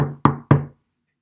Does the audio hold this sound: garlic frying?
no